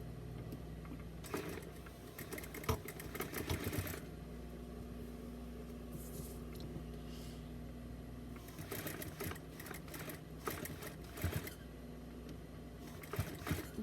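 A sewing machine stitches seams on a small doll bodysuit in several rapid bursts of close needle clatter, pausing between runs while low background hum continues.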